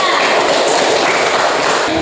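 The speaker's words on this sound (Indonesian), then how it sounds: "berikan tepuk tangan untuk Soal nomor 1" Students in an Indonesian school classroom applaud a student group, making a loud, dense, continuous wash of clapping that holds steady throughout.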